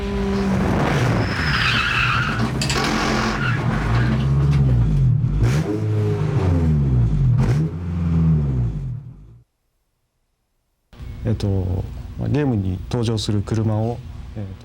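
Car engine revving and tires skidding in a PlayStation racing video game, loud and continuous with rising and falling engine tones, cutting out briefly near the end before resuming.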